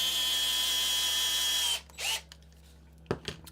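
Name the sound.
power drill running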